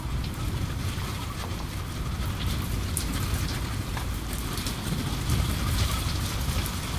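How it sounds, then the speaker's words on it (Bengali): Steady rainfall pattering continuously on surfaces, a dense even wash of drops with no voices, moderately loud throughout. "বৃষ্টি স্নাত সকাল দিয়ে একটি সকাল শুরু করলাম"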